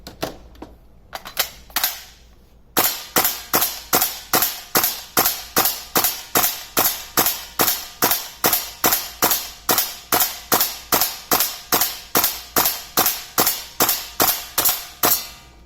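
A gas-powered airsoft SCAR-H rifle fires a magazine as gas runs low: a couple of hesitant shots, then a long, even string of sharp, loud single reports at a steady rhythm of about two per second, close by.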